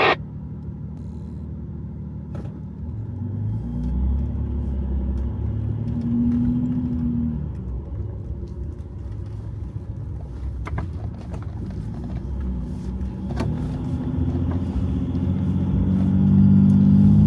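A 4x4 vehicle's engine labours and revs as its wheels spin in deep, loose mud after heavy rain, a sustained low rumble that swells and rises toward the end, with scattered knocks and splashes.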